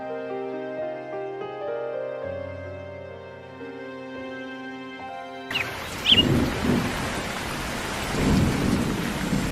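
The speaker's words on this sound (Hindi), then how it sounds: "अरे ये लो, बारिश और तूफान शुरू हो गया" Cartoon rainstorm: soft tonal music plays first, then heavy rain and rumbling thunder burst in suddenly and continue loudly to the end, with a few sharp cracks.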